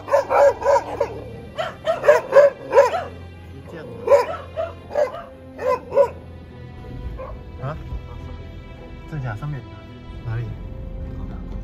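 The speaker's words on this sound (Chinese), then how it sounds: "有狗狗一直在对我们凶" Dogs bark aggressively near a fishing harbor at night, a series of sharp bow-wow barks and yips in quick bursts through the first half, then fading to quieter whimpers and low rumbling background.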